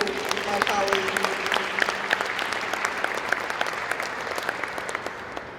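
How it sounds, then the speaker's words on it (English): Audience applause for school board members at a school district retirement ceremony, a broad steady wash of many hands clapping for several seconds with a faint voice or tone at the start. "Please give a round of applause to my colleagues."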